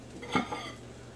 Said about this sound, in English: sausage, put it on a plate